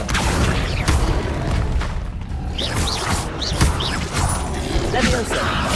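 Spellcasting in the Hogwarts Legacy video game: dense, loud layered game effects with repeated whooshing, bright swishes and thuds over constant background rumble, with brief voice sounds mixed in.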